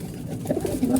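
Domestic pigeons coo softly, with a couple of low, rolling calls over a dull background hum.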